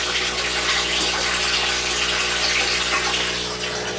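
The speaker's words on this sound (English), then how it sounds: "So that's creek water, straight out of the good old creek over here." Creek water pours steadily into an aquaponics tank, a continuous loud gushing rush with a low pump-like hum underneath, filling the whole stretch without pause.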